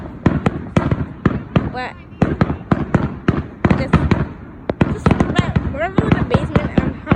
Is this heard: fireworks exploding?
yes